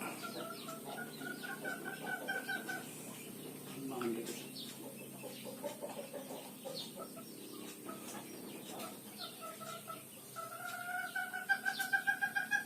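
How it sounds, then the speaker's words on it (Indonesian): A bantam chicken clucks outdoors among other fowl, with repeated short tonal calls in bursts that are moderately faint against a steady rural background. "Ayam kate."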